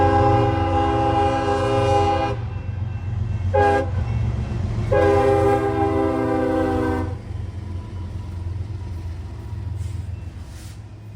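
An eastbound CSX freight train, I-008, passes on track 2 during morning traffic in Muncie, with a steady low rumble of rolling cars throughout and two loud horn blasts, the second long, standing out near the start.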